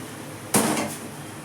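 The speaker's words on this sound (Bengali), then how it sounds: "এবার আমি চালটা দিয়ে দেবো। চালটা আমি দিয়ে দিচ্ছি।" Rice is tipped into a pot of boiling water while biryani is being cooked, making one sudden splashing hiss that fades quickly over a low background.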